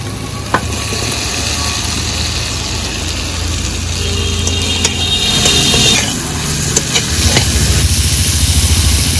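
Potatoes tossed into a pan of spice masala that has been fried for three minutes for a banana-flower and egg curry, a loud steady sizzle with scraping and stirring throughout.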